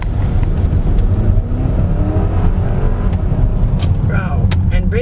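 A 2024 Changan UNI-K mid-size crossover rolls over large speed humps in BGC, heard from inside the cabin as a steady low road rumble with dull suspension thumps, while a person talks throughout.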